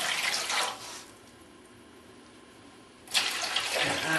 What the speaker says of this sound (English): You just pour your water in